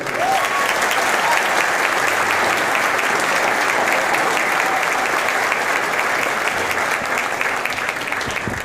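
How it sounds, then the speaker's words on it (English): An audience applauds the San Antonio Buffalo Soldiers Color Guard at a county State of the County address, with dense, steady clapping that stays loud and continuous for the whole stretch. "Can we give them a round of applause?"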